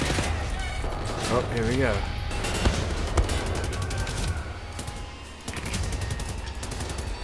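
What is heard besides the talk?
gunfire in the video game Wolfenstein: The New Order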